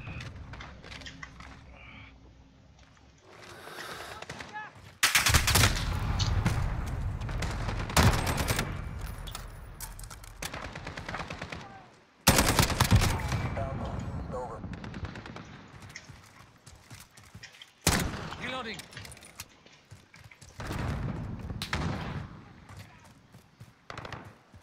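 An MP5 submachine gun in Call of Duty: Modern Warfare fires in several loud rapid bursts, each a few seconds long, separated by quieter gaps with faint background noise.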